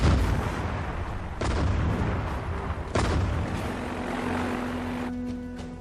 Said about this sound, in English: I'm gonna do a bombing run right here.